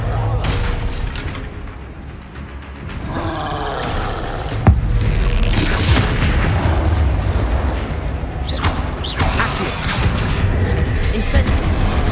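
In Hogwarts Legacy, Confringo and Incendio spells go off in a loud battle, with repeated booming blasts and fiery bursts over a heavy, continuous low rumble.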